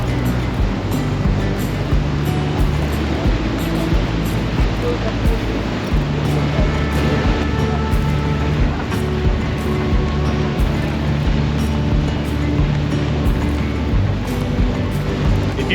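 A Toronto ferry pushes through the water with a steady low engine rumble, wash and wind noise running throughout the clip, fairly loud and continuous.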